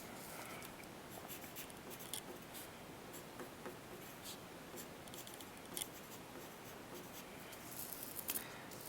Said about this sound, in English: the first thing that we're going to do is we're going to write our names at the top.